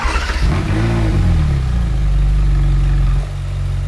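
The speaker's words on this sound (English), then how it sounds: "As always, the engine startup sounds very good." Ferrari 430 Scuderia V8 firing up in Gran Turismo: a sharp starter catch and loud rev flare that swells, settles into a high steady idle, then drops to a lower rumble near the end.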